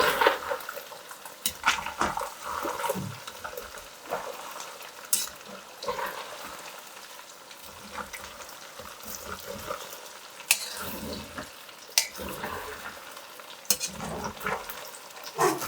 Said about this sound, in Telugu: ఎనివే చేపలు ఏగుతున్నాయి చూసారు కదా